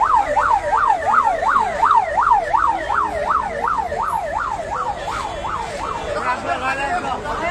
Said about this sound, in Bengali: ফায়ার সার্ভিসের অ্যাম্বুলেন্স ওনাকে নিয়ে যাচ্ছে কুলার উপজেলা হাসপাতালে